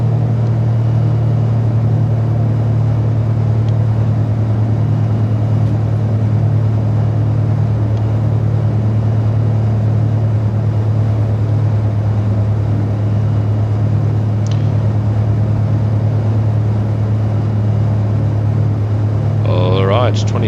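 Twin turbocharged engines of a Piper Seneca V drone with a steady, loud, low hum heard from inside the cabin, unbroken throughout, with a pilot talking over the noise.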